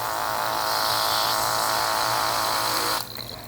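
Electric ear irrigation kit pumping water into an ear, a steady buzzing motor hum with gurgling spray, loud and close for three seconds before it cuts off abruptly, leaving quieter room sound.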